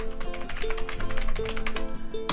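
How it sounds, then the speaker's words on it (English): Computer keyboard typing as rapid, uneven clicking taps close by, running steadily over a faint background hum with no voice. "can you hear me typing?"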